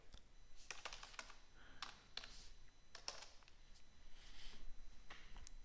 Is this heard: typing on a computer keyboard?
yes